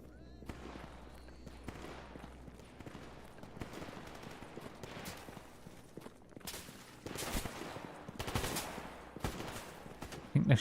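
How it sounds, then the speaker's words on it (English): Gunfire in the STALKER GAMMA video game: scattered shots and short bursts crack at moderate distance, bunched in clusters through the second half, with occasional footsteps and faint talk underneath. "I think they're shooting in my general direction"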